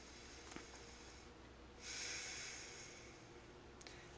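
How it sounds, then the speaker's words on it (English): One deep breath drawn in close to the mic during a shoulder and spine stretch, a single soft airy inhale lasting about a second over faint steady background hiss. "What you'll do is take a deep breath in."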